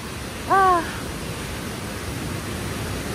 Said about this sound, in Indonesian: Nah, ini baru sampai di air terjun level 2-nya sana.